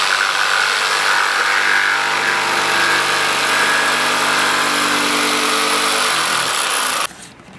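A power tool cuts a notch into a pallet wood upright for a lounge chair, a loud sustained whining cut that holds steady for several seconds, then winds down and stops abruptly near the end.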